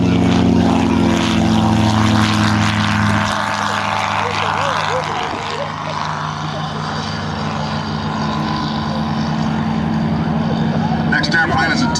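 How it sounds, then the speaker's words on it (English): A Piaggio P.149 propeller plane takes off at an air festival, its engine drone loud and steady throughout, with voices talking over it. "This is a Piaggio 149 taking off."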